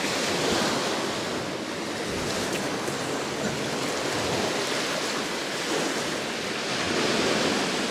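Baltic Sea waves wash steadily against the shore, a dense, continuous roar of surf with some wind buffeting the microphone, loud and unbroken throughout.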